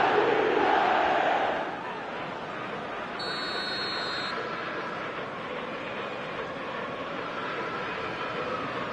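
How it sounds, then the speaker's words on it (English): A stadium crowd in the eFootball 2026 football video game gives a broad, steady roar that swells briefly at the start and then settles into a sustained murmur, with a short electronic tone partway through. "the crowd are reacting to that now"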